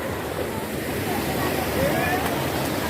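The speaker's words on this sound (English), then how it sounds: "Guys, this is Bo Waterfall." Bo Waterfall in Sierra Leone rushes in a constant broadband roar, steady and loud from nearby.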